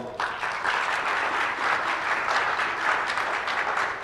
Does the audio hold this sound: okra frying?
no